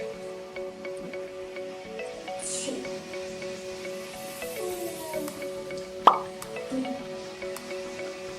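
Slime activator is added to a bowl of water gel, giving soft wet plops and a squishy splat, heard close and quiet over faint steady background tones.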